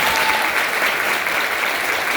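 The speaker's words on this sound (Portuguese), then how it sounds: "Pode aplaudir o Senhor Jesus." A church congregation applauds in worship, a dense continuous roar of clapping at steady loudness with no break.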